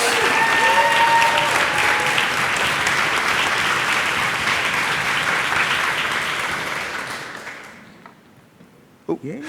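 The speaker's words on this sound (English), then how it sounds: "Can we have a round of applause for the new speakers?" A conference audience at a Python lightning-talks session applauds the new speakers, steady loud clapping from a large crowd that gradually fades out toward the end, with faint voices underneath.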